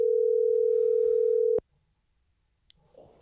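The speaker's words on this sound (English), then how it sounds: "I got to call Jackie back." A steady telephone dial tone hums for about a second and a half and then cuts off abruptly with a click, followed by quiet line noise and faint rustling.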